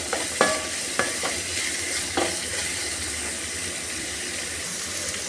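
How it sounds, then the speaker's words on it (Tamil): Chopped onion, chillies and curry leaves sautéing in hot oil, a bright continuous sizzle with a handful of sharp spoon taps and scrapes early on, close and steady. "ஆனியன், மிளகாய் கட் பண்ணி வச்சுருக்கோம், போட்டுக்கலாம். கருவேப்பிலை சேர்த்துருக்கோம். வதக்கிக்கலாம்"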